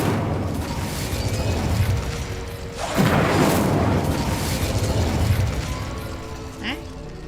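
Incendio fire spell in Hogwarts Legacy erupts with a loud whooshing, crackling burst of flame partway through, sustained roar tailing off, layered over game music and ambience.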